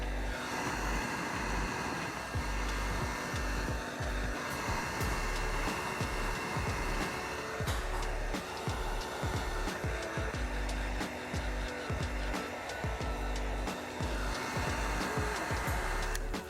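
A heat gun blows steadily and loudly throughout, warming the adhesive on the chrome front grille trim of a 2019-2022 Toyota Avalon; the continuous airy roar has faint handling clicks mixed in.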